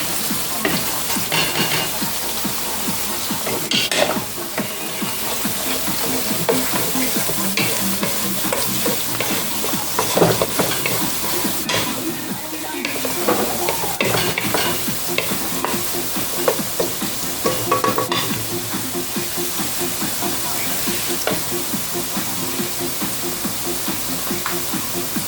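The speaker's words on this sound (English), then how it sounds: "This is the pot for stir fry shrimp." Shrimp stir frying in a pot for Jamaican curry shrimp, a steady loud sizzle with occasional stirring scrapes and clinks, continuous and close throughout.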